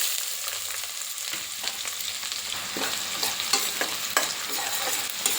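Chopped onion pieces frying with cumin in oil in a pan, giving a steady sizzle broken by repeated scraping stirs of a spoon, close up with no talk.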